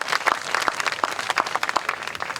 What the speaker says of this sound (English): I want to give yourselves a round of applause for being here on a Wednesday afternoon.